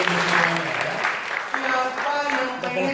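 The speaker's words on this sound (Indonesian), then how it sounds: "tepuk tangan untuk bapak" An audience applauds at an Indonesian business opportunity presentation in Medan, a steady wash of clapping that holds loud and fairly close for the whole stretch, with tonal voices or music showing through underneath.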